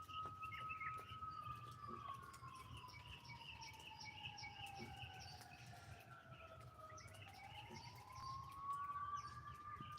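A police siren wails in long, slow rising and falling sweeps, faint and far off, over a quiet outdoor backdrop with occasional bird chirps.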